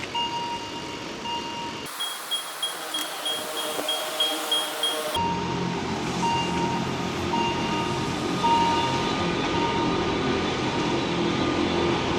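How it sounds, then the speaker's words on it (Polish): A cog railway train passes near the Grosse Scheidegg mountain pass in the Swiss Alps, a steady broad rumble with faint tonal whine and rhythmic clatter building and holding loud for the whole stretch, with no talk. "akurat jeżdża kolejka zębata."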